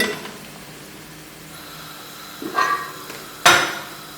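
Metal tawa griddle placed under a beef keema biryani pot: a couple of distinct clanks of metal on metal, the second louder, over a quiet kitchen background.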